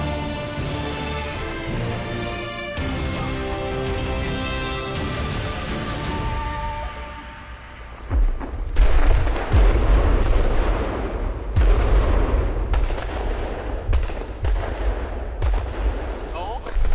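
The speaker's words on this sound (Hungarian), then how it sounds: "Szent István királyunk ünnepén nem csak Budapesten van tűzijáték." Fireworks burst during a St. Stephen's Day celebration in a Hungarian-speaking highland region. A dense, continuous barrage of crackling, booming explosions plays over music, loud and sustained throughout.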